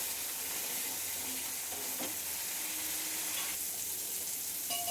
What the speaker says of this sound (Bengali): চালটার সাথে মশলাটা আমি বেশ করে কষিয়ে নেব